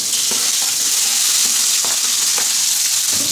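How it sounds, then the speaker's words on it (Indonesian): A steady, loud sizzle of paste frying in a hot pan, with occasional soft scrapes and taps as it is stirred. "Sekarang mau numis bumbunya"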